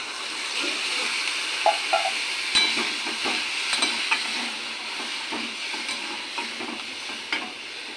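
Frying masala sizzles and hisses steadily after water is added, with scattered scraping taps of a spoon stirring the pan up close.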